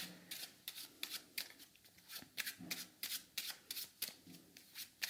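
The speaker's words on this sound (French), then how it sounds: "Il consiste à mélanger les cartes comme ceci." A deck of playing cards riffles through a French overhand shuffle, a rapid series of crisp, close flapping bursts in an even rhythm, quiet and clear with no voices over it.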